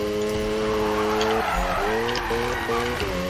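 A Mazda RX-7 with a Wankel rotary engine revs hard in Need for Speed, a loud close harmonic drone that dips and climbs again through quick gear changes.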